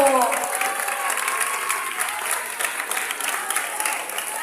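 An audience at a gathering applauds for a guest about to lead an opening prayer, a steady wash of many hands clapping from start to finish, with a voice over the start.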